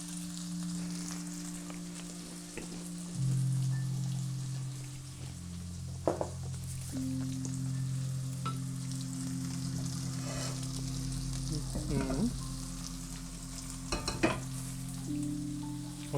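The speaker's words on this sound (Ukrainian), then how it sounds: "поки у нас рибка досмажується" Fish frying in a pan gives a steady, close sizzle with a constant broadband crackle, joined by some low humming tones and a few brief clinks, and no talk over it.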